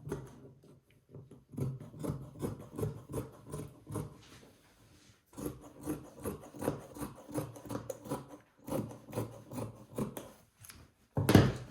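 Scissors cut through dress fabric along a traced pattern, giving a steady run of close, rhythmic crunching snips in two long stretches, with a short pause between them.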